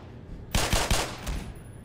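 A quick burst of three loud, evenly spaced gunshots, followed by a fainter fourth shot and a short decaying echo, from a gun in the Black Mesa video game.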